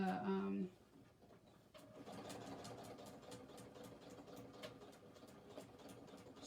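A sewing machine stitches slowly along a bag strap seam with a steady, faint mechanical whir and light ticking, following a brief louder burst at the start.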